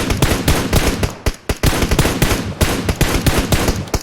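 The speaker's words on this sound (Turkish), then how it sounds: "Bak bir de ta şuradan sıkıyor bize." Rapid automatic gunfire in PUBG Mobile, loud and close, bursts of sharp cracks repeating almost continuously with two brief pauses, no talk over it.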